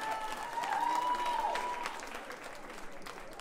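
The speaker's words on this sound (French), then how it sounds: "Waouh, des applaudissements." Applause from a small audience at an open-mic stand-up comedy night in a youth and culture centre hall, a steady dense burst of clapping that holds for about two seconds and then thins out, with a faint whistle or tone over the start.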